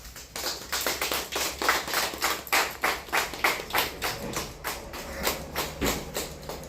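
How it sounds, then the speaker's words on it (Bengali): An audience at a school ceremony welcoming guests claps steadily in a rhythmic, even beat of distinct pulses that carries on throughout at moderate loudness, with no talking over it. "সবাই করতালি।"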